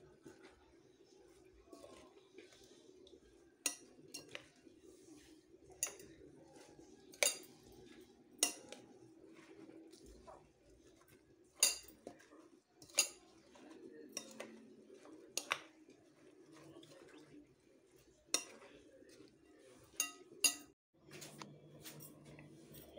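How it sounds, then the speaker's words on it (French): Eggs and milk being stirred in a bowl for Turkish gözleme flatbread, with faint scraping and a series of sharp utensil clinks against the bowl at irregular intervals, quiet and close. "On mélange."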